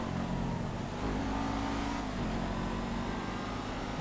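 Massacro race car engine in GTA FiveM, a loud steady drone with rising and falling revs as the car accelerates and shifts, close and continuous.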